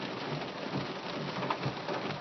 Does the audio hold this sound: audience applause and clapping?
no